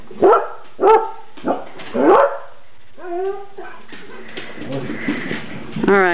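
A Border Collie barks several times in quick bursts, close and loud, then lets out a higher whimpering yelp; a few softer whines follow.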